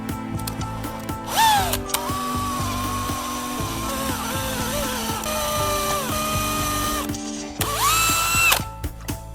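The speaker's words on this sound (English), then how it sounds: "I use a pen to mark the 4 spots that need to be drilled and start drilling." A power drill bores holes for a metal bracket with a steady whirring grind, broken by two sharper, louder high-pitched bursts of the bit biting into metal, close up.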